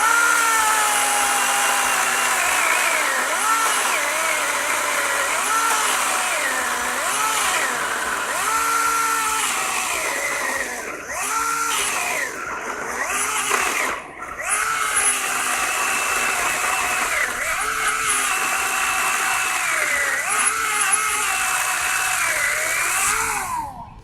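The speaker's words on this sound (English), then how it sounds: "anytime you are cutting with a chainsaw" A Ryobi ONE+ 18-volt brushless chainsaw with a 12-inch bar cuts through wood, its motor whining steadily and dipping in pitch under load, close and continuous with brief revving changes.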